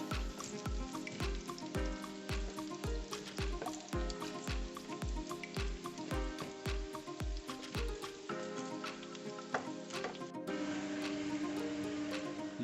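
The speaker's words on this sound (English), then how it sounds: "Look at that sizzling noise." Lamb leg roasting in a pan, a dense crackling sizzle of fat with faint popping, steady and close throughout, no talk.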